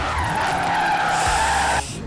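A car drifts in the racing game Forza Horizon 3, with a sustained tire squeal over a revving engine that rises and shifts pitch for about two seconds before cutting off.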